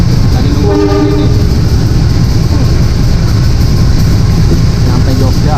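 A passenger train pulls into Lempuyangan station in Yogyakarta with a loud, continuous rumble of wheels and cars and a brief horn blast near the start.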